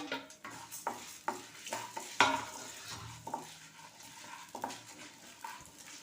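Urad dal and chana dal frying in hot oil for a coriander chutney tempering, a low sizzle under repeated spoon scrapes and clinks against the pan, near and fairly busy.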